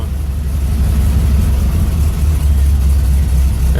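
A bus engine idles low and steady after a cold start on a cool morning, a deep continuous rumble close by with no voices over it.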